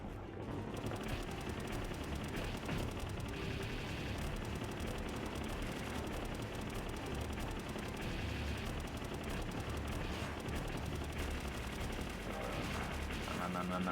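Dense, continuous gunfire during a fight on an oil rig in a video game, heavy overlapping shots and booms forming a loud unbroken wall of combat noise, with voices faintly underneath.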